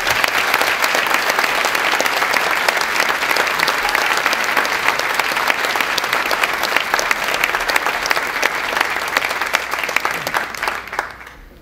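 An audience at a foundation event claps in steady, sustained applause for about eleven seconds, fading slightly at the end.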